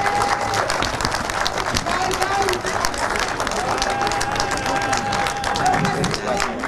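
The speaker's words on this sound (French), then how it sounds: "Cette vote de cœur, encouragement et applaudissements, s'il vous plaît, encore pour Madame la déléguée." An audience applauds steadily throughout at a formal ceremony honouring a female delegate, a dense spread of clapping with crowd murmur underneath and no clear talk on top.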